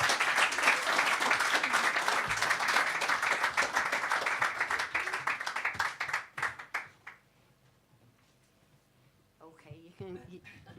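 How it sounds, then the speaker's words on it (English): Audience applause at a live music performance, dense steady clapping for about six seconds before thinning to scattered claps and fading, then faint background chatter. "you can keep clapping"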